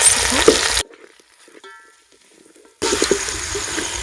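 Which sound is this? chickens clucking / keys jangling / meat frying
meat frying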